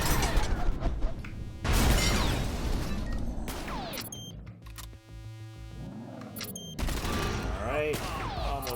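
Heavy machine gun fire in the video game Auto Fire, rapid mechanical bursts with clattering, whining and sharp impact effects, broken by brief pauses and layered game sounds, loud and busy.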